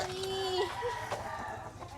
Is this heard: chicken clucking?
yes